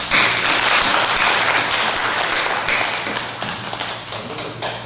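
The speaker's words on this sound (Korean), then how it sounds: "결의하는 박수 한번 해주시기 바랍니다" Church congregation claps together in a dense, steady burst of applause lasting several seconds, loud and close, slowly tapering toward the end.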